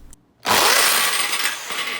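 Power tool running in hammer mode against a rusted bicycle bottom bracket, a loud continuous rattling metallic grind that starts abruptly after a short quiet moment and keeps going steadily to the end, close by, with no talk.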